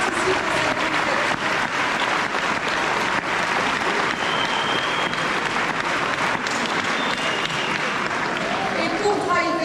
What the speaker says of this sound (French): je vous demande d'applaudir très très fort tous les bénévoles qui participent à cette fête